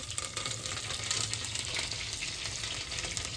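Mustard seeds, cumin, black pepper and curry leaves crackle and sizzle in hot oil over a wood-fired clay stove, a steady close hiss with fine popping throughout, no voices.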